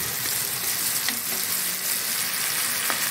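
Ground spices, garam masala and red chili powder among them, fry in oil in a pan for cauliflower sabzi, giving a dense, steady sizzle with a few faint scrapes, close and with no talking.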